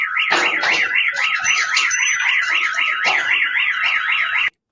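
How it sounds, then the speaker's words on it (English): A Russian car alarm blares close and loud, cycling a rapid warbling siren tone steadily for several seconds before cutting off abruptly. "one thing that works really well in Russia is their car alarms."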